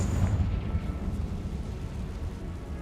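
A Confringo fire spell blasts in Hogwarts Legacy, a deep rumbling burst loud at the start that rolls on as a sustained low roar, with no talk over it.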